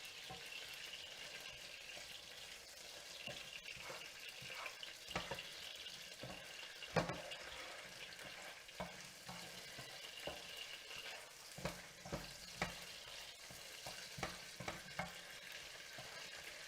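Garlic frying gently in oil on low heat, with a steady soft sizzle and occasional stirring scrapes and light clicks of a utensil against the pan, close and moderately quiet.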